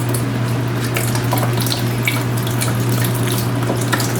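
Water draining from a toilet supply line into a bucket while a FluidMaster 400A fill valve is being replaced, a steady close rush of running water with no break.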